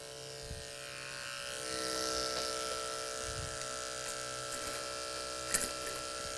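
A detachable blade clipper fitted with a 1.5 blade hums steadily while cutting a man's hair for an undercut, its motor buzz continuous and fairly quiet across the whole stretch with a few faint clicks.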